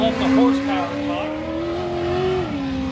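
An off-road race vehicle's engine revs in a steady, rising drone during Big Sky 200 qualifying in Broadview, Montana, with a voice talking over it throughout.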